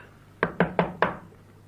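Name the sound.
knocking on a house door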